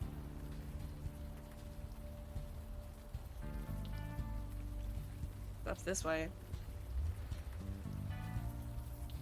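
Steady rain patters on surfaces throughout a rainy scene in the video game Unavowed, a constant soft hiss under clear talk and some game music.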